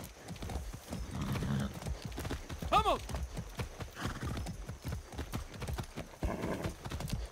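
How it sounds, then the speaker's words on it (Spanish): Horse hooves clip-clop in a steady galloping rhythm in the video game Far Cry 6, with a neigh partway through, and a voice talking over the hoofbeats. "¡Qué buen caballo!"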